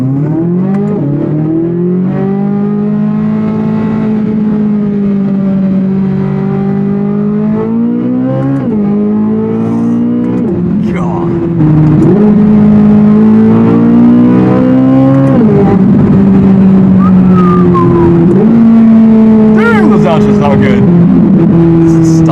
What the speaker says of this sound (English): Exhaust, guys. That sounds insane.